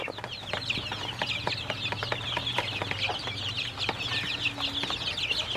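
Sonali laying hens cluck repeatedly in short, choppy bursts, with a steady low hum running underneath throughout.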